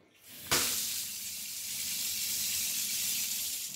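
An old-style bathroom mixer tap turns on with a sharp knock, then hot water gushes in a steady, bright hissing stream that holds for several seconds.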